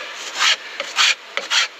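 A rasp or file scrapes across a wooden surface to smooth it before sanding, three close, rhythmic rubbing strokes with brief pauses between them.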